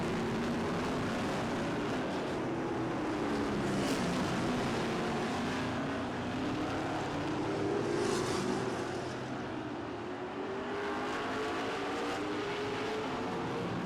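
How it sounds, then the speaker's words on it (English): Race cars roar around the Barrie Speedway oval in a steady, continuous engine drone, with pitch rising and falling as the field passes, loud and alone without voices. "Hard, clean racing at the back of this field"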